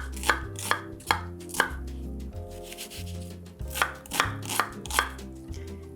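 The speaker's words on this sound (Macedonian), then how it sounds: "Кромидот на коцки." A kitchen knife chops onion into cubes on a cutting board, a run of sharp close knocks at an uneven pace with brief pauses between bursts, and no one speaking.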